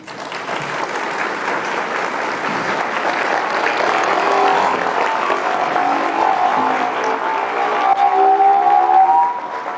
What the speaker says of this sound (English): how about another round of applause for Randy for that wonderful introduction